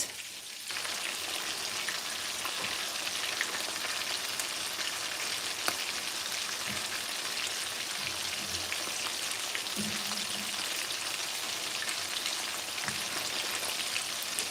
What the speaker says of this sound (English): We are just frying them so that they're not so that they look good.